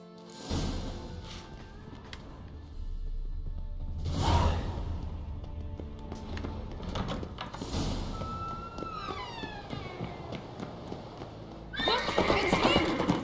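A horse whinnies loudly twice amid galloping hoofbeats and whooshing movement in the video game The Witcher 3, with another sharp neigh rising near the end.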